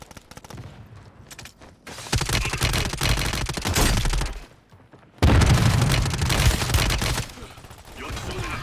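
Bursts of rapid gunfire in a Call of Duty battle, sustained volleys cutting in and out over several seconds, loud and close with a few quieter gaps between exchanges.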